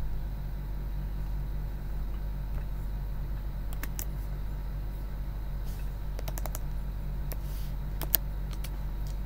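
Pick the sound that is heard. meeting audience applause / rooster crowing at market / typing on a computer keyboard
typing on a computer keyboard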